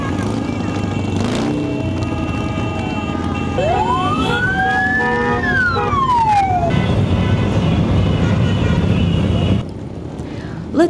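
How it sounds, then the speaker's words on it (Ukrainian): A siren wails up and down amid vehicle horns and engine noise during a city day parade in Sumy with motorcycles, loud and close, ending with a sudden drop in level. "Ледь стихли сигнали і розвіявся дим мотоциклів"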